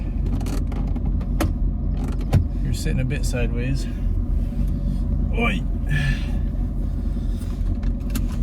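Mercedes C55 AMG on new tires out for a drive, its engine a steady low rumble heard from inside the cabin, with people talking over it and a brief mechanical click partway through.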